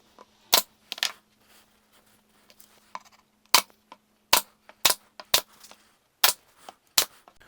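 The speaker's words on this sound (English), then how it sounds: "we're going to go ahead and glue and pin nail this just to hold it in place to dry" Pin nailer firing into a drawer divider tray held with glue, about a dozen sharp, separate snaps in irregular bursts, close and loud with quiet gaps between shots.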